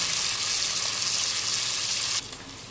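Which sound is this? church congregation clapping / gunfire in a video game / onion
onion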